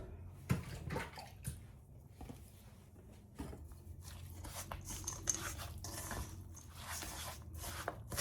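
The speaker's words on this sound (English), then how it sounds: "And give it a stir." Soaked dates are stirred into a date nut bread batter, giving soft wet sloshing and scraping in a bowl, with a few sharper clicks, close and quiet, no talk.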